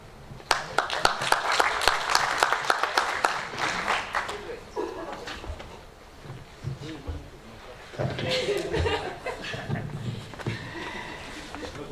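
Audience applause follows a keynote presentation at a university research week, brisk clapping for a few seconds that thins out, followed by a host speaking and more scattered clapping.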